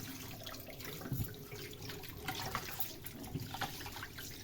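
Water runs steadily from a tap while fish pieces are washed by hand, with splashing and sloshing in a sink under a continuous faint flow.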